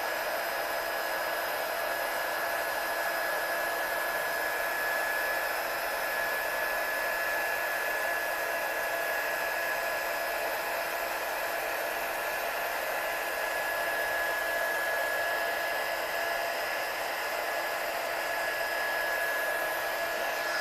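A hot heat tool blasts continuously for heat-setting embossing on a handmade card, a loud, unbroken whooshing roar with a thin steady whine that lasts the whole stretch, with no talking.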